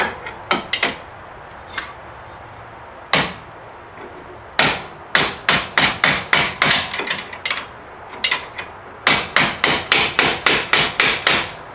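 A hammer taps a large control arm bolt into place on a 2010-2017 Chevrolet Equinox, sharp metallic blows in quick bursts of several strikes each, with short pauses between groups.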